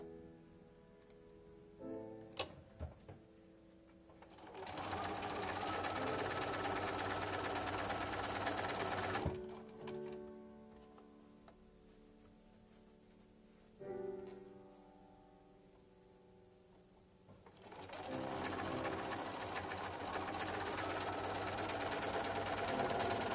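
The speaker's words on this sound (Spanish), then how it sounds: "y voy a coser" A sewing machine stitches a quilt block in long steady runs, a fast even whir of needle strokes lasting several seconds each, separated by brief pauses and small handling clicks, close and moderately quiet.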